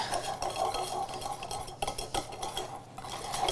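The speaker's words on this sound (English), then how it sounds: "So I'm using the spatula to kind of scrape and get in there." A spatula scrapes around a saucepan, working through a pale whipped egg yolk mixture in continuous close strokes with soft metallic scraping, steady and loud, and no voices.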